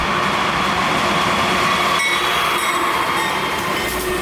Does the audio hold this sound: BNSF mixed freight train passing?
yes